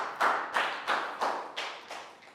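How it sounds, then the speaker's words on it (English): Short burst of classroom clapping for a pupil during a children's English lesson, about six or seven quick, distinct claps at a steady beat that fade slightly toward the end. "Big round of applause for Pang Pon."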